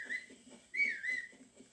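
A short whistle in the video game Zelda Breath of the Wild, a few bright rising tones in two or three brief bursts over soft game background, no talking.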